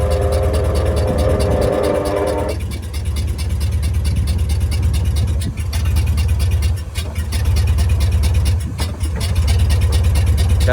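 A 1979 Ford Mustang Indianapolis Pace Car's 302 V8 idles with a steady, loud low rumble, a brief higher tone fading early on while the engine holds a constant drone throughout.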